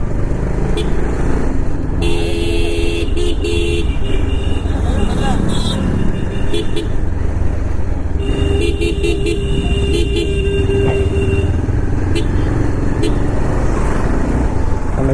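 A bus passes on a forest road near Achankovil, sounding its horn in two longer bursts over heavy engine and wind rumble from the ride, while people talk throughout.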